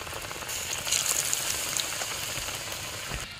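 Egg and onion fritters fry in hot oil, a steady close crackle and sizzle with light spitting pops throughout, and no voices.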